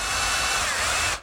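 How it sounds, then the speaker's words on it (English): A power drill bores a through hole with a 1/4 inch bit while building a woodworking jig, giving a steady, loud, close whine that runs unbroken and then cuts off abruptly at the end. "Here I've switched to a 1/4 inch diameter bit to do the through hole."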